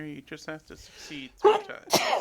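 A person sneezes sharply once near the end of a tabletop role-playing game session, right after someone speaks, with a shorter burst just before it.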